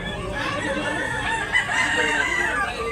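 Roosters and chickens at a market in Tabunok, Talisay, Cebu, with a drawn-out crow and clucking mixed into a busy, noisy background.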